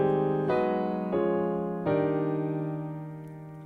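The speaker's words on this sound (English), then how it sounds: "so we have this white grand piano." White grand piano sample played on a Nord keyboard: three sustained chords struck in turn, each ringing out and fading slowly, close and clean with no voices.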